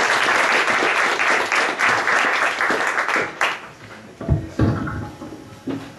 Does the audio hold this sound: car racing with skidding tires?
no